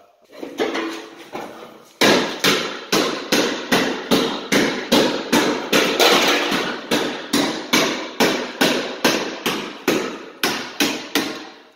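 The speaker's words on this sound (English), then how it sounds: "Is that the Stanley sheet metal hammer?" A Stanley sheet metal hammer strikes car body metal over and over in a steady rhythm, roughly two blows per second, each a sharp close clang.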